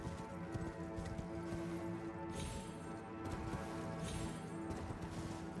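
Horse hooves clip-clopping in the Elden Ring video game, with a steady rhythmic trot under continuous game ambience and music at moderate level.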